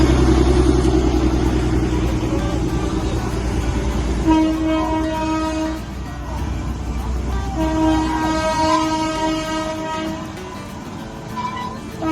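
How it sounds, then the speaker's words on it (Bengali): A narrow-gauge toy train rumbles and clatters past near Jungpana Waterfalls, sounding several drawn-out horn blasts over its steady mechanical noise. "আমাদের টয় ট্রেনের সাথে দেখা হয়ে গেল"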